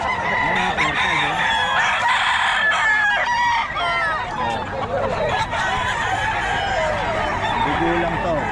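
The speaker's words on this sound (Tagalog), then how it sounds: "Papakita natin mga manok." Chickens and roosters at a Bocaue tiangge market, with repeated loud crowing and clucking from several birds close by over background market chatter.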